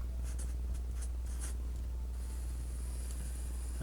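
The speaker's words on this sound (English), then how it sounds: "Let me write down all the details." Pen or marker scratching across a surface while writing out the details of a calculus math solution, steady faint strokes with brief bursts over a constant low hum, no talking.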